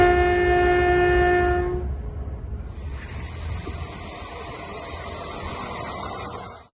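A new standard gauge passenger train in Ghana sounds a loud sustained horn for about two seconds, then a long hissing rush of air and rolling rumble follows, fading out abruptly.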